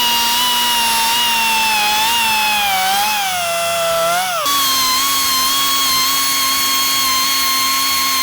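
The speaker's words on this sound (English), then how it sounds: "I can smooth that now with the belt sander" Belt sander grinding a steel bicycle frame where an eyelet was cut off, a loud continuous high whine with a brief dip in pitch under load midway, steady and close.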